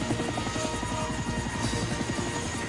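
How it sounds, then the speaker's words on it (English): Steady, dense helicopter rotor thrum with a rapid rhythmic chop as it touches down in snow, continuous and moderately loud throughout, no voices. "With landing lights shining brightly, Harold the helicopter touched down gently in the snow."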